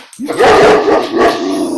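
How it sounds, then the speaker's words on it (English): A dog barks close and loud in two or three sharp bursts indoors, with a whimpering, yelping edge. "Sorry, dog's barking."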